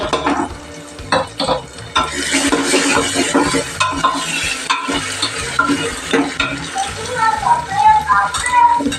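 Onions sauté in a pan with a loud, continuous sizzle and busy stirring scrapes and clatter up close, while a faint voice seems to come in near the end.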